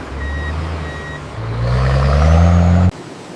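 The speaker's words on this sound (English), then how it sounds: "the roots are loaded onto heavy-duty trucks and transported directly to the factory." Heavy-duty trucks carrying cassava roots to a processing factory: two short reversing beeps first, then a loud diesel engine revving up and droning before cutting off abruptly.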